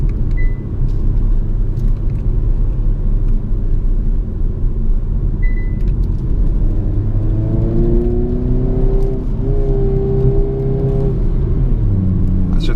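2022 Hyundai Kona N driving in N mode, a steady interior road rumble and whir, with the engine note climbing through rising tones as it accelerates in the second half.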